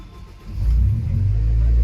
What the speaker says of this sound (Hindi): सारा फ्यूल सिस्टम चेंज करने के बाद आप लोगों को गाड़ी स्टार्ट करके चेक करवाऊं